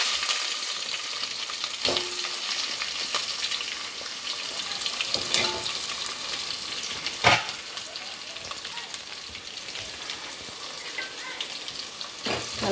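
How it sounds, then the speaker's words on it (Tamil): Steady sizzling and crackling of chopped onions frying in hot oil for egg curry, with occasional scrapes of stirring, continuous and close. "நல்லா வதக்கி விட்ருங்க. நல்லா பொன் வறுவலாக வதக்கட்டும்."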